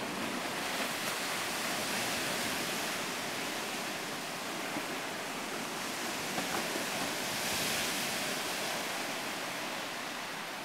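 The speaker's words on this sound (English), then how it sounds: "The waves here are really strange, the way it goes." Strong Pacific Ocean surf on an Alaskan shore rolls in sideways, making a dense, continuous roar and hiss that swells gently and never breaks into distinct crashes, heard alone with no talking.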